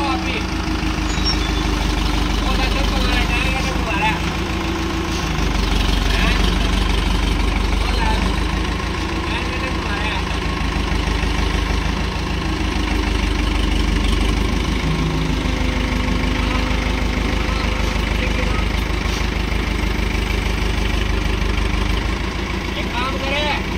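A tractor engine idles with a steady low rumble throughout, fairly loud and close, while people talk nearby as a trolley is loaded with soil at a roadside.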